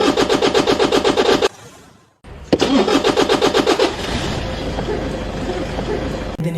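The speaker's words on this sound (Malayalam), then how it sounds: "ഇങ്ങനെയാണ് ഒരു എഞ്ചിന്റെ സ്റ്റാർട്ടിംഗ് സാധ്യമാകുന്നത്." A diesel engine is cranked by its starter motor in a fast, rhythmic chug, stops briefly, then cranks again and catches, settling into a loud, steady running roar with no talk.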